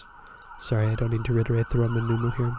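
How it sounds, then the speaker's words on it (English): Emergency vehicle sirens sound outside on a busy day, a harmonic wailing tone starting after a short pause and continuing in repeated rising and falling bursts, moderately loud and close, with a person speaking over it indoors. "Apologies for the sirens and whatnot."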